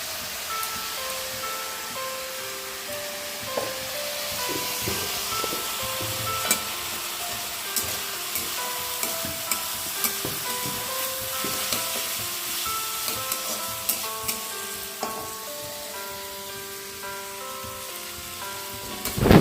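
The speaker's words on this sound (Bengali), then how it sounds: "আমি সবজিগুলো একটু তেলের মধ্যে নাড়াচাড়া করে নিচ্ছি।" Vegetables frying in hot oil while being stirred, for a Bengali village dish of fried rice: a steady, loud sizzle with occasional scrapes and clinks of the stirring utensil, continuous and close, with no talk.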